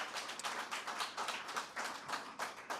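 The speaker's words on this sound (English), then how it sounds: "please, round of applause" A small panel-discussion audience claps for a few seconds, a soft, dense patter of hands heard at some distance, fairly quiet throughout.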